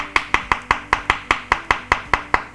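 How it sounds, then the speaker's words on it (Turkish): A knife chops steadily through mushrooms on a board, about a dozen crisp, evenly spaced strokes close by, with no voices. "Mantarları da şöyle doğrayabilirsiniz."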